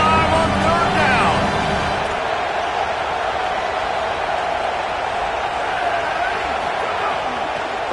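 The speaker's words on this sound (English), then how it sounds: "The Buckeye crowd alive on third down." Ohio State Buckeye football stadium crowd roaring on a third down, a loud sustained wash of cheering that swells early then holds steady throughout, with a commentator talking over it.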